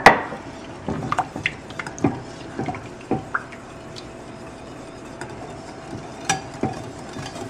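A spoon knocks and scrapes inside a pot of macaroni and cheese sauce, giving a string of light, irregular clinks and taps at close range with quiet gaps between them.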